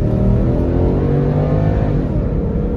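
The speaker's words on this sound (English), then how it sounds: "I hope you can hear that exhaust note, because that was beautiful." A 1993 Cadillac STS engine revs hard, its deep exhaust note rumbling loud and close in a sustained throaty pull with steady harmonic growl, no speech over it.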